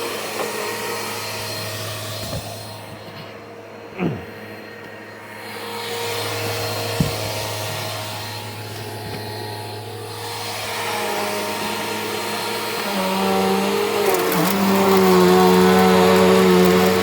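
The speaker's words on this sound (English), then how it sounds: "Now for the entrance rug." A Bissell PowerForce Helix Turbo vacuum cleaner drones steadily and loudly up close, its pitch shifting as it works across an entrance rug, with a brief thump partway through and a higher whine near the end.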